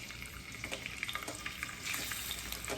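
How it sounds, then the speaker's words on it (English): Salmon fillet laid skin-side down in a hot pan for crispy skin, giving a steady close sizzle and crackle with small pops, swelling louder near the end. "Can you hear that sizzle?"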